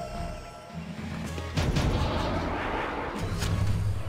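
A heavy booming blast of a shot in the video game Septerra Core hits after a low rumble, followed by lingering crashing reverberation, loud and close, no talking.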